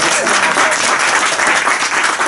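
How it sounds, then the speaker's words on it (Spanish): An audience at a presentation breaks into loud, dense applause, many hands clapping steadily and close throughout the short burst. "Le damos un aplauso a su"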